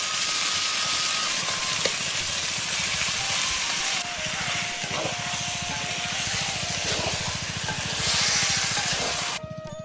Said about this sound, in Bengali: এখন মাংস দিয়ে দেওয়া হচ্ছে।